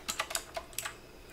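Someone types on a computer keyboard in a brief burst of about seven crisp, uneven keystrokes, heard close and alone.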